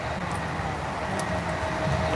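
A passenger train runs along the Northeast Corridor between New York City and Philadelphia, a steady broadband rumble and rattle heard from inside, with a faint high whine and no talking.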